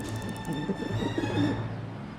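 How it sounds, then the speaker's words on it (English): A pigeon in Syberia The World Before coos softly, a few low warbling calls over a quiet game ambience with a steady background tone. "Now, Madam Pigeon, would you be so kind as to make way?"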